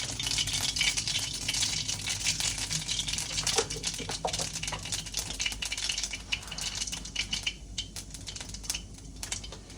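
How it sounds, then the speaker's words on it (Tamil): Mustard seeds and cumin hit hot oil in a pan, giving a steady crackling, spattering sizzle with dense rapid pops throughout, close and fairly loud. "சட்டியில் எண்ணெயும் ஊற்றிட்டு இப்போ வந்து கடுகு போடுவோம் கடுகு சீரகம்"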